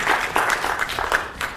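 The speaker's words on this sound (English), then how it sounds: "So first, a round of applause for me." A conference audience applauds at the close of a software engineering talk, a brief burst of moderately loud clapping with distinct individual claps audible.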